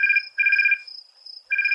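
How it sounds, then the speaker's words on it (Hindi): An electronic phone ringtone signals an incoming call, with bright repeating chirping bursts in a steady on-off rhythm that are loud and close, with no talking. "ये देखो स्वस्तिका फोन कर रही है"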